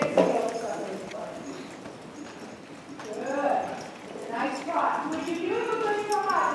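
A ridden horse's hooves thud softly and rhythmically during a riding lesson in an arena, largely under an instructor's voice, with bird calls faintly in the background.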